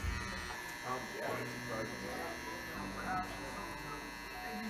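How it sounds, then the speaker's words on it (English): Sharp electric hair trimmers buzz steadily close by as a barber works them lightly through the back of a client's head during a haircut, with someone talking over the hum. "I gotta be light-handed back here because these trimmers are sharp as hell"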